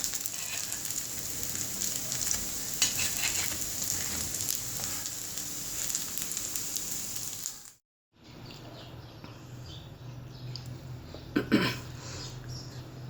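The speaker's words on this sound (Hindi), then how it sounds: "मैंने इसको फ्राई करके निकाल लिया है।" Poha (flattened rice) kebabs frying in hot oil give a busy, close sizzle with crackling pops, broken by a brief near-silent gap before the frying resumes a little quieter, with a few louder spits near the end.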